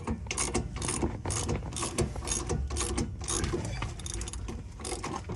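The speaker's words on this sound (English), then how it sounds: "I'm gonna take my 18 millimeter and I'm gonna just tighten it up with my ratchet." A hand ratchet tightens an 18 mm bolt on a front shock of a 2008 Dodge Durango 4WD, giving quick bursts of close, crisp clicking strokes in a steady working rhythm with no talk.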